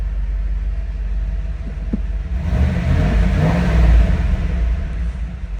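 A 1995 Pontiac Firebird Formula idles with a low rumble, then revs up loudly midway, the roar swelling and easing back down. No one speaks.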